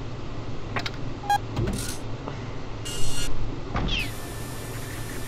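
Electronic whirring and buzzing of a laser drill effect in the video game Henry Stickmin, with scattered beeps and chirps, rising in bursts near the end.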